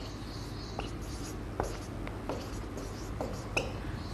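Chalk or marker writing on a classroom board during a chemistry lesson: faint repeated scratchy strokes and taps at irregular intervals, over low room noise with no speech.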